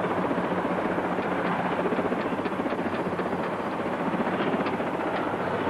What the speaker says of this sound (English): Ask Lieutenant Commander Kavanagh, can he see the helicopter from the boat?